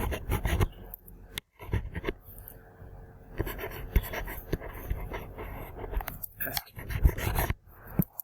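During an accounting lecture, a pen scratches quickly across paper in bursts of short, close strokes with brief pauses between them. The sound is fairly loud and no one speaks.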